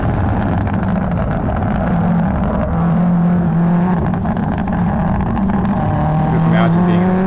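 A race car engine running hard on a course, a loud continuous roar with shifting engine tones that rise near the end, heard close with a commentator's voice running over it.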